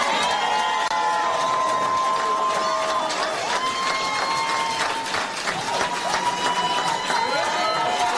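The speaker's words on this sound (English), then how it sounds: "Crowd loved that line." A crowd at a presidential campaign speech to Black voters in Atlanta cheers and whoops loudly, with shouts and scattered clapping forming a dense, sustained roar throughout.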